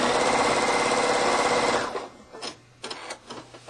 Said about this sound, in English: flip it over and sew the rest of that seam on the back side